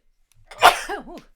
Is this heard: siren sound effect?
no